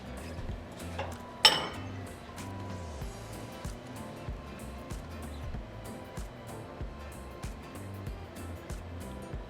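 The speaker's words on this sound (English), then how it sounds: "So I'm just going to transfer it into a bowl" Homemade barbecue sauce scraped from a pot into a bowl, with one loud clatter of the pot, then a run of soft, quiet utensil taps and clinks.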